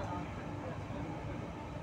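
A Lucknow metro train runs along in motion, its steady low rumble and rolling noise continuous and close throughout, with faint background chatter.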